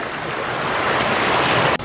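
River water rushes steadily through the broken side of a weir in a rural fishing spot, a loud, close, continuous roar of flowing water heard on its own.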